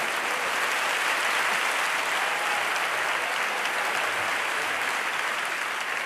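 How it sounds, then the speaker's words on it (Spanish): A comedy club audience applauds steadily, a dense, even wash of clapping from many hands that holds at a constant loudness for several seconds with no talk over it. "No, aplaudid si queréis."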